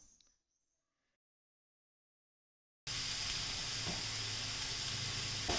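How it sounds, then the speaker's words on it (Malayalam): Onions sautéing in hot oil for a restaurant-style chicken gravy, a steady close sizzle and hiss that starts abruptly after a brief quiet stretch and continues evenly to the end. "എണ്ണ നല്ലപോലെ ചൂടായതിന് ശേഷം ഇതിലേക്ക് ഉള്ളി ആഡ് ചെയ്ത് കൊടുത്ത് നല്ലപോലെ വഴറ്റിയെടുക്കാം"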